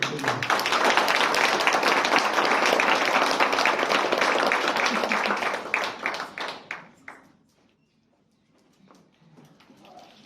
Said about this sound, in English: A round of applause to Amy.